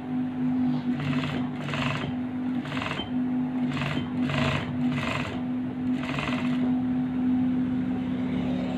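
A sewing machine stitches batik fabric in bursts, its motor hum steady under a rhythmic run of needle clatter that starts and stops several times, close and fairly loud, with no talk.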